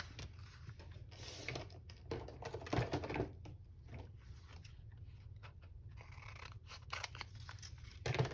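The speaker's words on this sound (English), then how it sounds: "And we're just going to cut this off." Paper being cut with scissors during an envelope and pocket craft, a series of quiet, close snips and crisp rustles in irregular bursts, with no talking.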